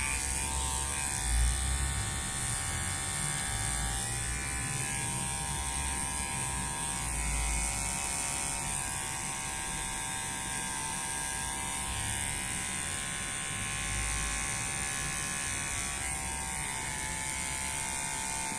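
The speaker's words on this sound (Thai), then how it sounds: "แต่เราก็ต้องมาโกนอีกทีนึง" Electric trimmer buzzing continuously up close while shaping a goatee beard at home, with a steady motor whine that shifts slightly as it moves over the face.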